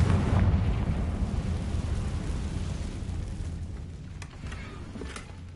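A Confringo blasting spell detonates in Hogwarts Legacy, a loud booming explosion with a rumbling roar that slowly decays, followed by faint crackling debris.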